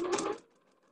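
A sewing machine stitches the side seam of a dress in a brief whirring run of under half a second, then stops into near silence.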